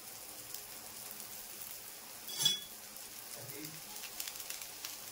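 Beetroot dosa frying in oil on a pan, a soft low crackle and sizzle with a brief louder spatter near the middle, close and faint, without speech.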